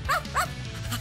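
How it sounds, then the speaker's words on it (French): A small dog gives two quick yipping barks close by, the second a beat after the first, with a faint whimpering tail, all within about a second in a cartoon scene. "Un chien!"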